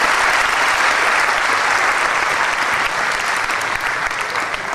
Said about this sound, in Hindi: आप सभी लोग तालियों के साथ में उनका स्वागत करें